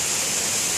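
Waterfall at a jumping spot: a dense, loud, constant roar of falling water with no breaks, filling the short moment.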